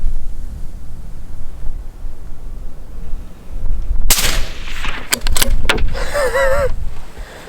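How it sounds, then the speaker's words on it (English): A suppressed 22-250 rifle fired outdoors, a sharp loud report cutting through a low background rumble, followed by a few quick clattering cracks and a short rising whine. "we also brought along the 22-250 and to see how that sounds when it's suppressed too"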